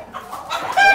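Chickens clucking close by on a rural homestead, a short run of rising, busy clucks that grows louder toward the end.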